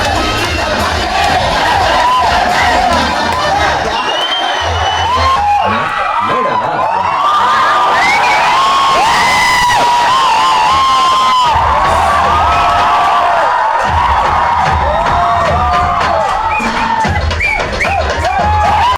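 An audience in a movie theater shouts, whoops and cheers loudly and continuously during a dance song in a film screening, a dense roar of many voices.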